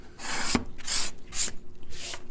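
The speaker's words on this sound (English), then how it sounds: "Nothing like scraping maple and revealing just how nice it is." A hand card scraper shaves maple wood at a guitar and ukulele bench, four distinct rasping strokes in quick succession, close and fairly loud with short pauses between passes.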